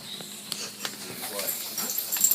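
A dog whimpers softly with a few faint yips, close by, while a person talks over it.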